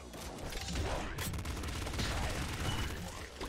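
A triple machine gun fires in the video game Nuclear Throne, a dense continuous stream of rapid gunfire over game sound effects.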